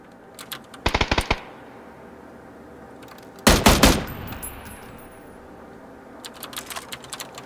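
Two quick bursts of rapid automatic gunfire in the video game PUBG, the first short and the second louder and longer, with faint clicking between and a brief rattle near the end.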